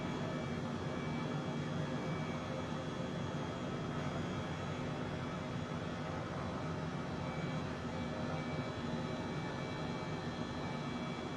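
Steady, loud broadband engine drone of an H135 helicopter in Microsoft Flight Simulator as the throttle is eased down, continuous and dense throughout with no voices.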